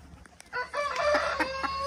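A few soft clucks lead into a loud, drawn-out crow from a Polish chicken nearby.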